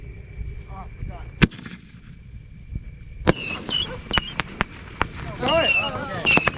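Fireworks popping outdoors as a few sharp, separate bangs that come at irregular intervals, with people talking and shouting around them.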